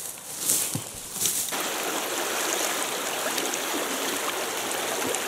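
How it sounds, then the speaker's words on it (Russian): A mountain river in the Verkhoyansk Range tundra rushes steadily and fairly close by, its broad, even flow filling the whole stretch with a constant watery hiss, with a few faint bumps near the start. "Речка снова собирается в одно русло более-менее."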